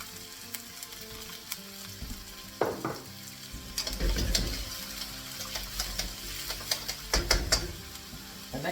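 Onions and peppers sizzle and crackle in a hot pan for chicken wings, with a steady frying hiss broken by scraping stir strokes and utensil clatter, close and moderately loud with no talking.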